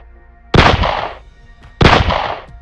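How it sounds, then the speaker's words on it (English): Gunshots in a scary story: two loud, booming shots fired a little over a second apart, each with a hard crack followed by a rumbling, echoing tail, and no voices in between. "3 gunshots rang out,"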